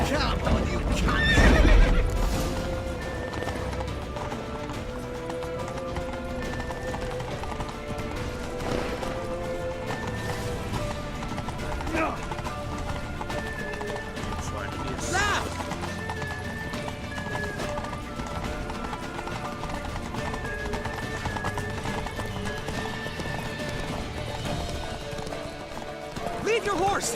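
Steady clip-clop of galloping horses through a long stretch of Witcher 3 gameplay, with occasional neighs, a thump early on and a musical score running underneath, voices now and then.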